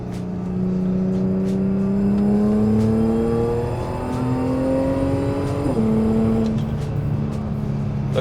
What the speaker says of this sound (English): I'm gonna do a little pull for you guys right here